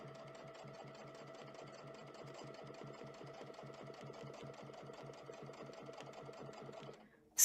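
A sewing machine runs steadily for several seconds while free-motion quilting with a ruler foot on a log cabin quilt, its needle chattering in a fast, even rhythm at close range before stopping abruptly.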